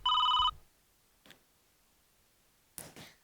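A telephone gives one short electronic ring burst at close range, then goes quiet apart from a couple of faint rustling sounds.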